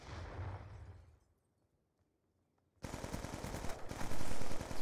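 Rapid automatic gunfire from Black Ops 2, a dense loud burst of repeated shots starting abruptly after a quiet stretch, with earlier gunfire fading out at the start.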